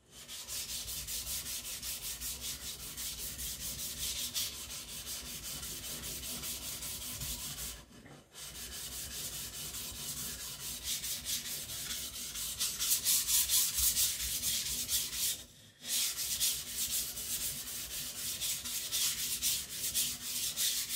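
A custom Chinese cleaver is sharpened on a stone in steady, rhythmic back-and-forth rubbing strokes, close and continuous for about twenty seconds with two brief pauses.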